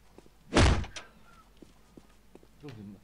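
In the video game Postal 2, a door hits with one short, heavy thud, followed by faint scattered clicks and a brief muffled bump near the end.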